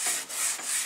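A Scotch-Brite pad with wax and grease remover scuffs over a car body's paint, giving three quick rhythmic rubbing strokes close to the mic.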